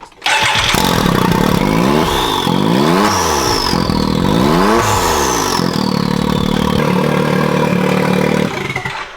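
A straight-piped, turbocharged 2022 Can-Am X3 side-by-side engine revs hard several times in rising and falling sweeps, loud and close, with a high turbo whistle climbing over the exhaust roar before settling to a steady idle.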